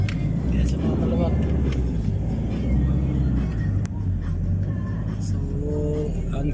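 Cars queued in a crowded parking line at a busy venue in Kapatagan, Davao del Sur: a continuous low idling engine rumble with occasional revving, under steady nearby talk.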